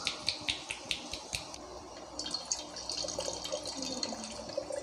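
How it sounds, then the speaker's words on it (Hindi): Coconut water trickles and drips from a freshly cut coconut outdoors in a village, faint irregular splashes and small droplets, close and quiet, with a few sharper taps at the start. "थोड़ा पानी तो निकला"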